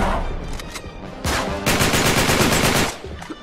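Gunfire in the Uncharted 3 video game: loud, rapid automatic bursts crackle in quick succession, with a short volley first and then a longer sustained stream of shots before it trails off.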